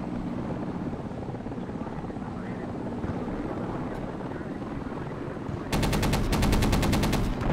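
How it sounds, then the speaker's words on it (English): Anti-aircraft gunfire in the Project Reality game, a loud rapid rhythmic burst near the end over a constant droning helicopter rotor and engine hum. "There's someone shooting AA in main."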